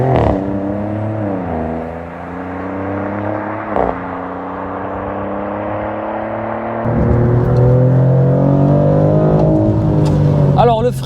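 Maserati GranTurismo Trofeo with its V6 Nettuno engine in Corsa mode, revving loud and close in rising, falling sweeps that climb hard through the gears near the end, with only a few brief gaps between pulls.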